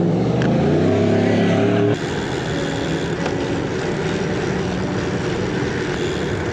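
Road traffic on a cold, wet morning, with loud engine roar and the hiss of tyres on wet tarmac as vehicles pass close by, a heavier vehicle sweeping through early before a steady wash of wet road noise.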